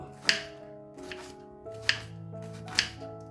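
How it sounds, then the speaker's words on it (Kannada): A knife slices thinly through bitter gourd in four crisp, separate cuts at uneven intervals, close and clear, each followed by a faint resonant ring. "ಹಾಗಲಕಾಯಿನ ನಾವು ಈ ಥರ ಕಟ್ ಮಾಡ್ಕೊಂಡಿರೋದು"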